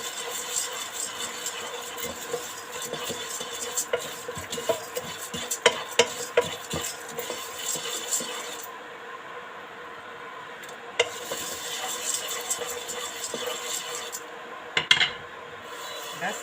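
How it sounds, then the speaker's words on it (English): Flour snacks frying in a pan, a steady hiss and sizzle of hot oil running throughout, with occasional stirring scrapes and light clinks of utensil against the pan. "I'll keep frying until they are well fried."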